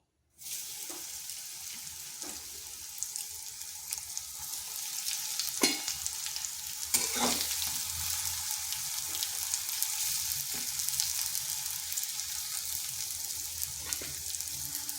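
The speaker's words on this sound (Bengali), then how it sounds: "এরপর ওই উচ্ছেগুলোকে ভেজে নেব" Pieces of bitter gourd (karela) fry in oil in a wok with a steady, close crackling sizzle. Now and then a utensil scrapes or taps the pan.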